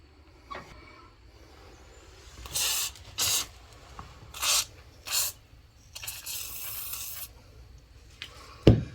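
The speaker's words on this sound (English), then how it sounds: "Also gonna use some WD-40. So I'm gonna go ahead and spray around that to get some penetration, lubrication there." WD-40 penetrating lubricant hisses from an aerosol can in several short bursts around a stuck John Deere 430 tractor front wheel, with one longer spray near the end and quiet outdoor background between them.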